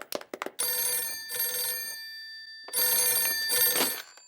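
A cartoon telephone rings in two long trilling bursts separated by a short pause, bright and close, after a few quick taps at the start.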